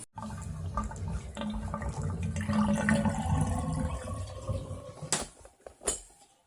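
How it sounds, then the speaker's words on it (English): Water gurgles and rushes steadily for several seconds as a clogged bathtub drains after a main line drain opener, with a few sharper splashes and bubbling bursts near the end, fairly close. "So the tub just drained."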